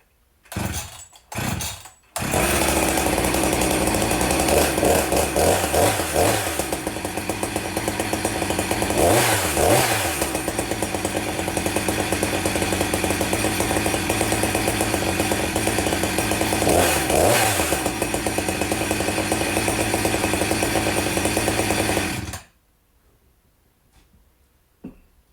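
A Redmax gasoline chainsaw running on old fuel sputters through a few short pull-start bursts, then catches and roars steadily at close range for about twenty seconds, with a couple of revving swells, before cutting off abruptly.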